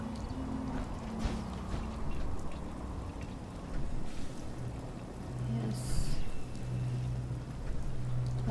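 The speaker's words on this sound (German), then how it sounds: "Dieser Regen macht mich so aggro." Steady rain in the video game Fallout 4 fills the scene with a continuous broadband hiss and patter, holding at an even moderate level throughout, with a few brief game sounds rising over it.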